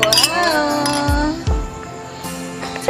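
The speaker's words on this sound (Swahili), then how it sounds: "Kugonganisha glasi." A couple of bright glass clinks ring out near the start, followed by voices talking and a bit of background chatter.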